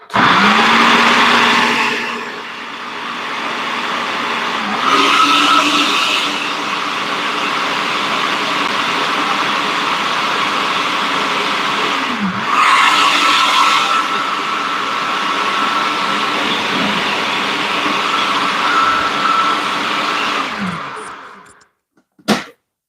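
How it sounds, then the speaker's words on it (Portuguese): A stand mixer beats batter for a sweet pie with a loud, steady motor whir, pitch dipping briefly a few times as the beater works, then cutting off near the end. "E se você for bater só essa misturinha na batedeira"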